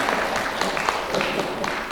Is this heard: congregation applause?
yes